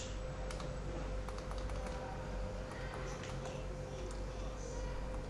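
Typing on a computer keyboard, a steady run of light key clicks at close range beneath a constant electrical hum, while a voice talks over it.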